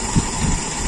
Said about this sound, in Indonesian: Mudah-mudahan teman-teman bisa mendengar ya suara perubahan mesin